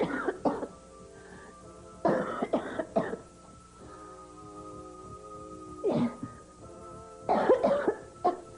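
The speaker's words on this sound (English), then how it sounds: "Just get these coughing spells." Several bursts of harsh coughing with a throat-clearing, separated by quiet pauses over a faint steady background hum.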